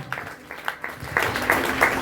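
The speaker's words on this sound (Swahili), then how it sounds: "Everyone say amen and they clap for him a mighty hand of praise." A church congregation bursts into clapping, starting with scattered claps that quickly swell into dense, sustained applause in a reverberant hall.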